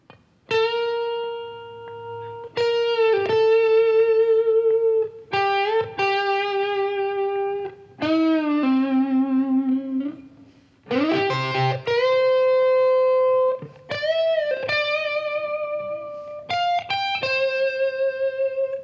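An electric guitar with distortion plays a series of sustained single-note lines, separated by brief pauses, loud and up front.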